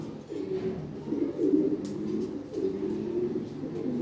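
Red Lahori Sirazi pigeons cooing up close, with repeated low throaty coos rising and falling in overlapping phrases and a faint chirp in the background, without talking.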